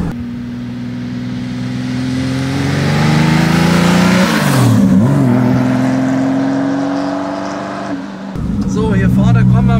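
A 1959 Ferrari 250 GT Pininfarina Coupé engine while driving, loud and close, revving up and down through gears with a sustained rising and falling drone, a brief dip mid-run, and talking over it.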